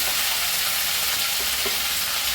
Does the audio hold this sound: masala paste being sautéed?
yes